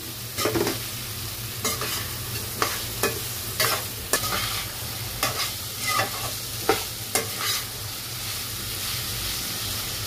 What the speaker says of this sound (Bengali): আজকে আমি মুসুরির ডাল দিয়ে রান্না করতেছি